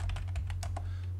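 Several quick, close clicks of computer keyboard keys pressed in a short burst for an AutoCAD shortcut, layered over a constant low electrical hum.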